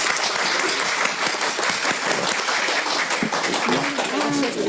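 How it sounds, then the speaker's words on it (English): Residents at a village board meeting applauding, dense sustained clapping from a crowd, loud and close, with voices mixed in beneath it. "give a warm round of applause to those hardworking men and women"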